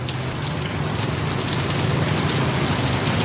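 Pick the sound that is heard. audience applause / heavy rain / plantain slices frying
heavy rain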